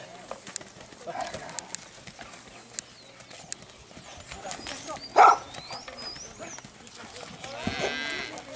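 Horses' hooves clip-clopping on a street during a horseback procession in Brazil, a steady patter of many hooves with crowd chatter, passing engines and ambient noise around them.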